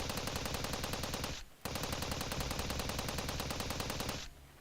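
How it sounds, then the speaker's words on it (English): Rapid, sustained automatic gunfire rattles loudly, pauses briefly, then resumes in a long continuous burst before cutting off, in the visual novel game Steins;Gate 0. "the sound of gunfire"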